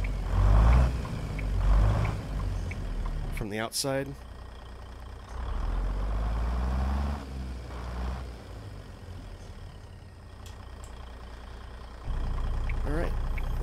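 A Cummins N14 diesel engine in an International 9800i truck in American Truck Simulator rumbles and revs up and down, with brief gear or air sounds between, while a person talks briefly.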